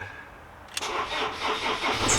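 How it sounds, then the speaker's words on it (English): A Ford Transit van's starter motor cranks and the engine catches at once, firing into a steady mid-pitched idle with slight revving, close and fairly loud with no talking. "that's the starter motor"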